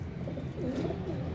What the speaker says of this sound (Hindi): काफ़ी कबूतर बाबा जी ने पकड़े हुए हैं